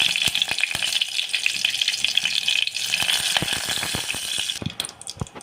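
Mustard seeds and cumin sizzle and pop in hot oil for a tamarind kuzhambu, a dense, loud crackle with sharp sputters and spoon taps close by, easing off near the end.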